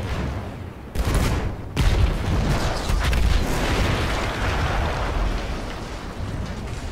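Battlefield 1 gameplay explosion: a loud, sudden blast erupts, followed by a second burst and a long, dense rumbling roar of debris and gunfire-like crackle that stays heavy and sustained to the end.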